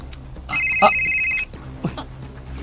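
A mobile phone rings with a steady electronic tone lasting about a second, then stops. A brief voice follows nearby.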